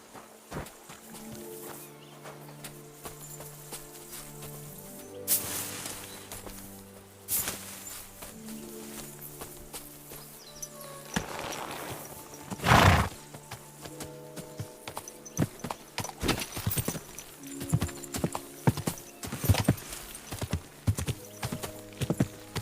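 Horse hooves clip-clop along at a walk in the medieval role-playing game Kingdom Come Deliverance, with a horse whinnying partway through; steady hoofbeats, fairly close, over quiet background music and occasional sharp knocks.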